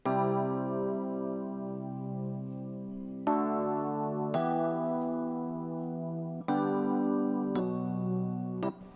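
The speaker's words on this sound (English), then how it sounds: "I started off with this low electric piano." A low electric piano plays a sustained chord progression, each chord ringing out for a second or two before changing to the next, in a pop track; the instrument is heard alone, close and steady.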